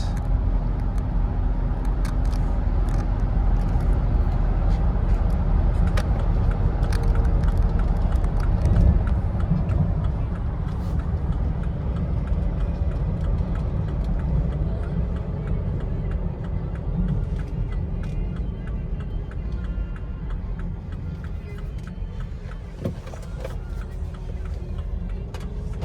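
Inside a 2015 BMW X3 turbo with 130,000 miles cruising at about 65 mph, a steady broad road and wind roar with low engine hum, easing slightly quieter toward the end.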